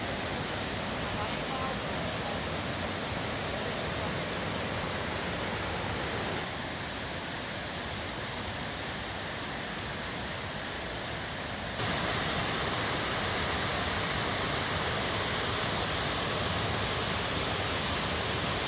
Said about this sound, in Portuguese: Olha que cai a água.